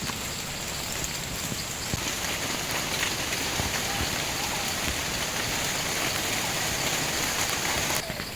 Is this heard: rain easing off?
yes